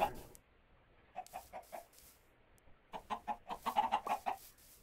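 Minecraft chickens cluck nearby in short rhythmic bursts, one cluster of clucks and then a longer run of repeated clucking after a quiet gap.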